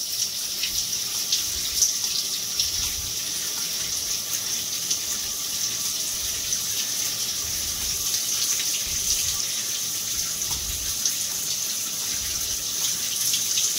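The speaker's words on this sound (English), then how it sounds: "Just keep splashing water on it." Water runs steadily from a tap and splashes onto a soap-covered mirror, a constant bright hiss and spatter close by with no speech over it.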